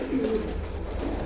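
Pigeons cooing softly in a village coop, a brief low murmuring coo close by over a quiet background.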